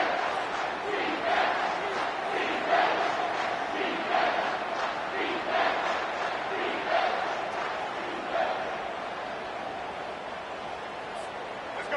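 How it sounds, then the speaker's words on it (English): A football stadium crowd roars and chants on a big third down, rhythmic rising shouts from a large, distant mass of fans that swell and then ease slightly toward the end. "The crowd elevating its energy, willing this defense to get a stop on this big third down."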